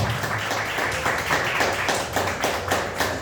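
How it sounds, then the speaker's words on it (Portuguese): A church congregation claps in a fast, regular rhythm, many hands together in a moderately loud, steady pulse that fills the room. "E as palmas que glorificam o nome do Senhor."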